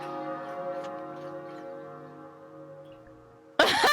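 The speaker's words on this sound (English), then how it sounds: "Sorry, is that the bell tower?" A bell tower in the video game Professor Layton vs Phoenix Wright rings with a long, sustained tone that slowly fades over several seconds, then a sudden loud, noisy burst cuts in at the very end.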